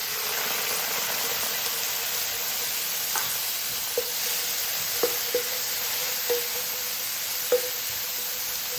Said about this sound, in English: Okay, our bacon's been cooking for just a minute or two now. We're starting to get some sizzling.